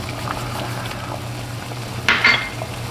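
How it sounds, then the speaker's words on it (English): A pot of water at a rolling boil bubbles and churns steadily up close, with a brief metallic clink of cookware near the end. "our water has just started to boil. It's a good rolling boil."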